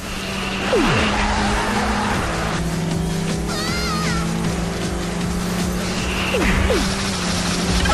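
Karts in Sonic & Sega All-Stars Racing skid and squeal around a corner, with droning engines, rising and falling tire screeches and sliding whooshes in loud, busy game audio.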